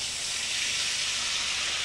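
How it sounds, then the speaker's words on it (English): Red wine, about 7 to 8 fluid ounces, hitting a hot pan with a little butter left in it, giving a steady, loud, continuous bright sizzle and hiss that holds evenly throughout without any talk. "can you hear it sizzling?"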